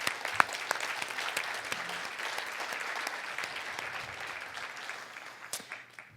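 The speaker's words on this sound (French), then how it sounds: "Je pense qu'il mérite vraiment un gros applaudissement" Steady applause from a conference audience gathered for an evening event on Indigenous women's rights, a moderate crowd clapping evenly with a few sharper claps, fading out at the close.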